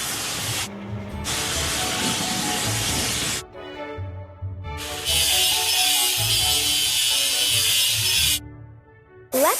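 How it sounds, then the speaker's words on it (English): Long bursts of steady spray hiss from a spray gun painting a ship in a video game start and stop several times, with mechanical tool noise and a low hum between them. "Let's drag the spray gun along the stain to paint it."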